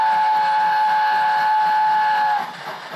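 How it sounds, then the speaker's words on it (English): A steam railway engine sounds one long, steady whistle from a distance, holding for over two seconds before cutting off, leaving faint background hiss. "You can hear a faint whistle in the distance."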